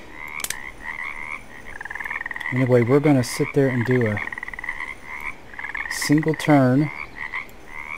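Frogs croak in the Russian Fishing 4 video game: a steady chorus of short repeated calls, with louder, deeper ribbed croaks in bursts near the middle and toward the end. Someone speaks briefly over them.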